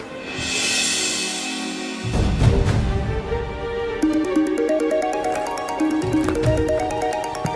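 A phone ringtone plays a loud, repeating electronic melody of bright tones, following a brief dramatic musical sting; no voices.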